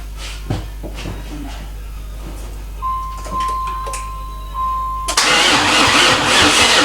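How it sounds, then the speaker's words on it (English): A 1994 Camaro Z28 engine under rebuild is cranked over, a starter whine after a stretch of quiet clicks, then the engine catches and runs with a loud, broad steady roar close by. "it'd be ready to get it turned over."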